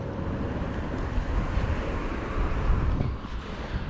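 Steady outdoor wind gusting on a chilly winter day along a street near the River Thames in Eton, a continuous low rumble buffeting the microphone, no voices.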